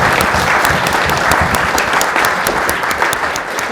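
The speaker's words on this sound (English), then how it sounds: "I think you can applaud." Loud, dense applause from a large audience at a memorial lecture, steady clapping that fills the whole stretch without letting up.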